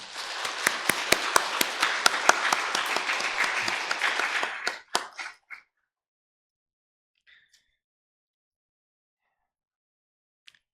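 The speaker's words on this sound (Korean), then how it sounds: "우리 따뜻한 박수로 환영하겠습니다." Church congregation applauding to welcome a new member during a Sunday service, brisk clapping from many people for about five seconds, with a few last claps trailing off into near silence.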